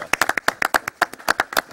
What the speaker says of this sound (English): absolutely give a round of applause